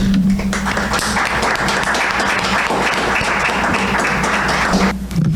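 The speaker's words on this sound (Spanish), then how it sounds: "les pido un aplauso para la maestra Guadalupe López Gutiérrez" A school event audience applauds a teacher being introduced before her talk on children's questions and critical thinking, with sustained, dense clapping that stays loud and steady for about five seconds before easing off.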